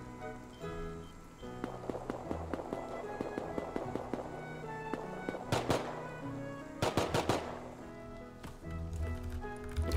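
Gunfire in the survival game Rust comes as scattered single shots and rapid clustered bursts, loudest in the middle of the clip, over a busy background.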